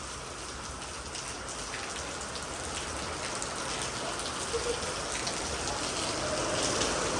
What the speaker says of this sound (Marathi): आता पाऊस आलाय बेकार